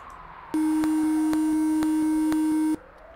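A steady electronic telephone line tone from the FM Towns version of the Zak McKracken adventure game, a constant pitch with faint periodic clicks, sounding alone for about two seconds before cutting off.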